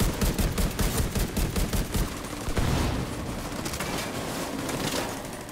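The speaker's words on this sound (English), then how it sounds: "All right, Beardo, go ahead and get on the minigun there. Need you to give us some cover and fire" Minigun fire in the video game The Division 2, a dense roaring stream of rapid shots in pulsing bursts that settles into a steadier, slightly softer rattle toward the end, with no talking.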